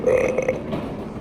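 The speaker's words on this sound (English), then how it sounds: "I literally burped on purpose." A single deliberate human burp, loud and close, with a drawn-out voiced rumble that fades over about a second.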